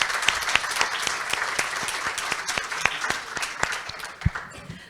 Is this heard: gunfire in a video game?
no